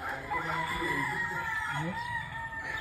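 Chickens and roosters at a game farm, with several roosters crowing and hens clucking over a steady, busy farmyard background; the birds sound close and fairly loud throughout.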